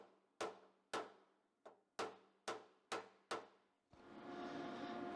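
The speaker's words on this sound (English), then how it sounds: "Just that lower corner just wants a little bit tapping out the way." Hammer tapping out the lower corner of a rusty metal door panel: seven sharp, ringing strikes at a steady pace, close and loud, followed by a sustained broadband noise.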